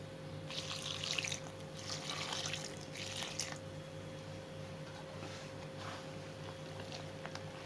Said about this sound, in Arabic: هنزل الميه شويه بشويه عشان نملك العجين